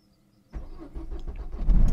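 A car engine cranks and catches after about half a second of near silence, then idles and revs louder toward the end, close by inside or beside a car whose bodywork is covered in small white lily-of-the-valley flowers.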